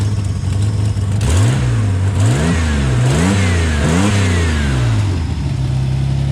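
A Holden Torana engine with an idle problem runs loud and close, its revs rising and falling in several uneven surges over a steady low rumble.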